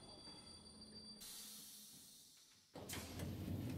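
Train ride into Splatsville in Splatoon 3: a steady rolling rumble and hiss of rail cars, with a sharp shift at the end into brighter, louder wheel noise and rushing air.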